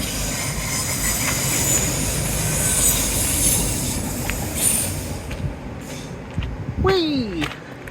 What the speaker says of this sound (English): First train of the proverbial day.